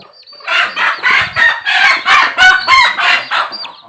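Domestic chickens cluck close by in a run of about ten loud, evenly spaced squawking calls, each a short harsh burst with little gap between.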